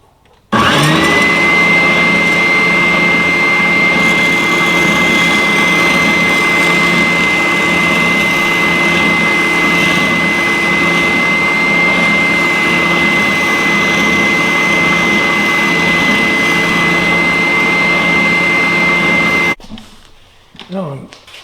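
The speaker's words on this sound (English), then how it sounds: "using our oscillating drum sander" An oscillating drum sander shapes an ulu knife cut from an old saw blade, a loud steady whirring drone with a thin high whine holding continuously for about eighteen seconds before stopping abruptly.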